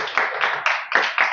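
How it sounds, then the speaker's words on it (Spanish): Brief, loud burst of clapping from a conference audience, a few pulsing waves of claps close by that keep coming in quick surges. "Aplauso, por favor."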